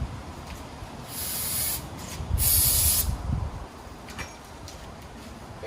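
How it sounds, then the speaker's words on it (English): Rubbing alcohol sprayed onto the body panels of a Can-Am Ryker three-wheel motorcycle, two short hissing bursts about a second apart, close and fairly quiet, with no talking. "I'm just going to spray this stuff on, and I start from the top and work my way down."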